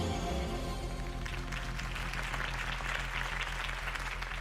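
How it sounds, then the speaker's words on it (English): Crowd applause at a campaign speech in a Batman video game, dense continuous clapping that swells in as a low musical drone fades beneath it, steady and loud throughout. "If only Mr. Wayne, my campaign's largest backer, could have heard that applause"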